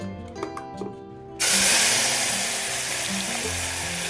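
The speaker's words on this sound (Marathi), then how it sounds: "तो आता ह्या गरम झालेल्या तेलामध्ये ऍड करूया" Ground masala paste hits hot oil in a pan and bursts into a loud sizzle that starts abruptly and hisses on steadily, with faint clinks before it, while cooking a mackerel fish curry.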